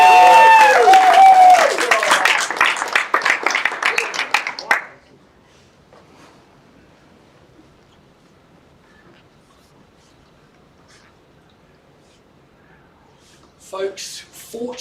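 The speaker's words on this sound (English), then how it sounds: "we'd like you to give him a great Auckland round of applause" An audience at an Auckland auction event claps in a burst of applause lasting a few seconds, followed by near silence. A brief clatter of sound comes at the very end.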